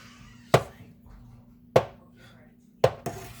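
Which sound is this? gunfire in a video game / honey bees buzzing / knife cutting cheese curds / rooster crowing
knife cutting cheese curds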